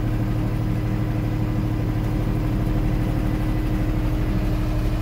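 A tractor's diesel engine idles steadily at 1500 rpm, a loud, even low rumble with a constant throbbing beat and no change in pitch.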